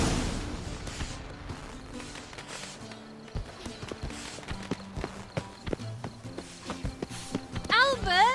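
Horse hooves clip-clop steadily in The Witcher 3 video game, a regular series of close, sharp knocks over a low ambient bed, with a brief voice-like sweep at the very end.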